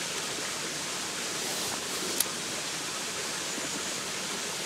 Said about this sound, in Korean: 찰찰찰찰 흐르는 게 소음으로 느껴지진 않네요. 계속 들으면 힘들 수 있겠지만, 여하튼 간만에 듣는 자연 시냇물